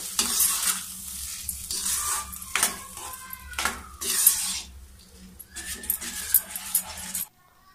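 Food being stirred and mixed in a cooking pan in a home kitchen, with repeated scraping strokes and a light sizzle, fairly close and moderately loud, continuing steadily until it stops abruptly near the end.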